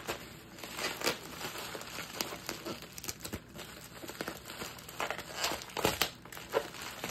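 Packing tape being pulled and pressed down onto a Wii video game package for shipping, giving repeated crinkly tearing and rubbing bursts at close range with no voices.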